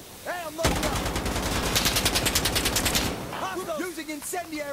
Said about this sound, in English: Machine gun up there.